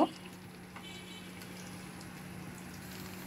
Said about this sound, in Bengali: মাছগুলো দিয়ে দিয়েছি, উল্টে পাল্টে ভালো করে ভেজে নেব।